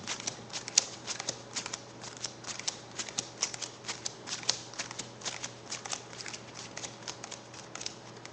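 A pack of playing cards shuffled for a card trick, close and steady, with repeated papery riffles and soft taps in an uneven rhythm and no talking.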